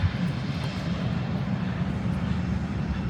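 A steady, loud roar of an airplane engine fills the whole stretch, a continuous low rumble as an aircraft takes off or lands on a runway nearby at Charlotte, North Carolina.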